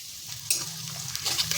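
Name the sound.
chopped onion frying in oil for methi shaak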